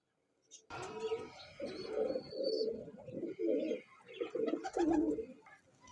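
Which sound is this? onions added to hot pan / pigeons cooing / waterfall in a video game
pigeons cooing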